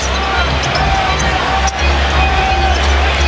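Standing arena crowd at an NBA Finals game between the Lakers and Celtics in the closing seconds, a dense, tense roar of thousands of fans that holds steady throughout, with a brief dip midway.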